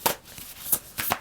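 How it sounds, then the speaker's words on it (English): A deck of tarot cards being shuffled by hand, giving several quick, soft riffling bursts in an irregular rhythm, close and fairly quiet, with no talking. "Is this the wrong deck? Because I keep shuffling and nothing's happening."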